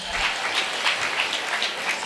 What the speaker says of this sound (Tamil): பெரிய கைத்தட்டில் நீங்களே கொடுத்துக்கலாமே